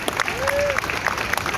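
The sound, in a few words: audience applause for a busker's volunteer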